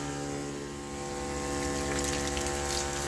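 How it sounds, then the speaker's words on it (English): A garden water pump switched on to feed irrigation piping, giving a steady close hum with water gushing and flowing through it continuously, with no one talking. "Flick it again, on, pump comes on,"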